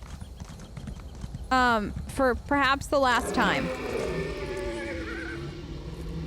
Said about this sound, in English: Look at this horse. Look at this horse. I love his scream too.